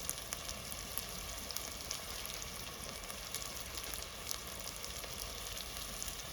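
Spices and turmeric roasting in a pan, a steady soft sizzle and crackle with faint scattered pops, continuous and close.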